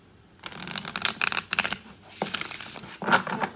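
Several quick bursts of cards being shuffled, riffling crisply up close with short pauses between them.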